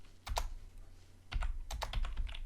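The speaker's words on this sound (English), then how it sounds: "and we want to type in" Soft clicks of typing on a computer keyboard in two short bursts with a pause between, close and fairly quiet over a faint low hum.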